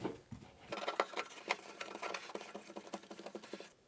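Rapid dense clicking and ratcheting of a Delta shower head being threaded onto its arm by hand, a close, steady run of small plastic-and-metal ticks lasting several seconds.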